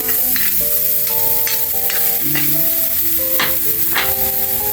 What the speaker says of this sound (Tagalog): Magigisa tayo ng pasta. Ito, magigisa tayo ng bawang, sibuyas